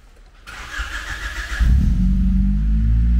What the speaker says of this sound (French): Et je démarre la voiture.